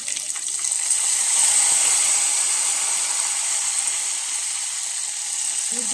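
Small garlic pieces hitting a hot pan in a home kitchen, a steady bright hiss of frying that swells slightly then holds, loud and close, with no talk over it.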